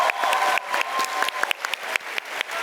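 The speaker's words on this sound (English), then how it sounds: "Please give a big round of applause to congratulate our award recipients." At a health sciences graduation ceremony, an audience claps for award recipients, with dense, close applause carrying sharp individual claps throughout the short burst.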